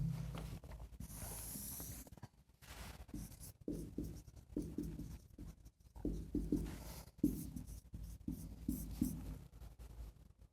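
Pen writing out a conclusion during an exam-solution lesson, quick close scratching strokes in short bursts separated by brief pauses, with no talking.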